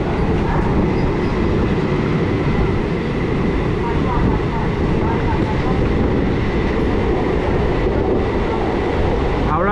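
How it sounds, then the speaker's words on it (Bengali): A Howrah local train hauled by WAP7 electric locomotive 37455 runs past in a loud, steady rolling roar of wheels and motors that lasts throughout, with someone speaking over it. "এটা হচ্ছে হাওড়া 37455 WAP7, দারুণ লোকোমোটিভটা"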